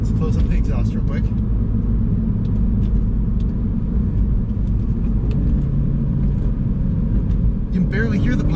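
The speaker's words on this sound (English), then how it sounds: "You can barely hear the pops with the valve closed." A Mini fitted with a loud JCW Pro Tuning exhaust, its exhaust valve closed, holds a steady, heavy engine rumble throughout, with the exhaust pops muffled to near inaudibility beneath the continuous drone.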